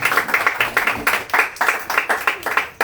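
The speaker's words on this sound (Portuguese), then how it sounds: "Pode aplaudir Jesus, amados irmãos." An Apostolic church congregation claps during a worship service, loud and close, in a quick rhythmic pulse of many hands beating roughly together, without speech over it.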